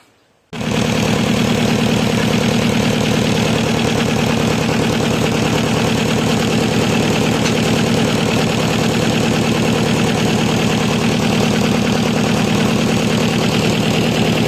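A car engine idles steadily and loudly up close before driving off, a constant droning rumble that starts abruptly after a brief moment of near silence and holds unchanged throughout.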